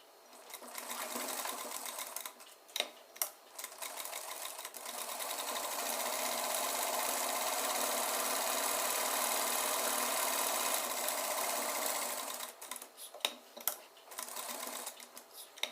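A sewing machine stitches a stand collar in a long, continuous whir, with short stop-start bursts before and after the main run.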